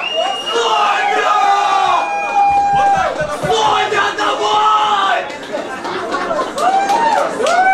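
Pub audience at a live karaoke night making steady crowd noise and cheering, with a host speaking over it and scattered yells.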